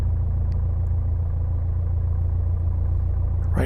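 A Piper Cherokee Warrior's engine in the X-Plane 12 flight simulator runs up while the plane holds on the brakes near Coast Guard helicopters, giving a steady, loud, low droning rumble that stays unchanged throughout.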